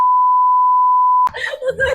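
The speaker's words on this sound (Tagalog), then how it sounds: "Beep na lang to, yung buong minute na ito." A steady censor bleep tone holds for over a second, then cuts off abruptly as a voice starts speaking.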